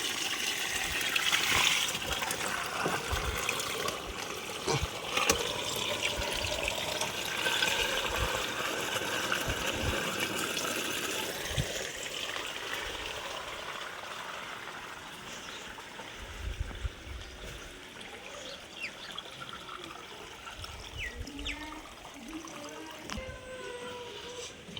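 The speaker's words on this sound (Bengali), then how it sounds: "এখানটায় খুলে দিই, জল বেরোবে" Water rushes out of an opened drain in a steady gush that slowly eases toward a trickle, with scattered splashes and drips across the outdoor setting.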